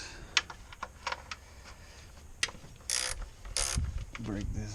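A wrench breaking loose a 12 mm bolt on a 2006 Toyota Tacoma during valve cover gasket work, with sharp metallic clicks and ratcheting, then a couple of short grinding bursts, fairly close and moderate in level.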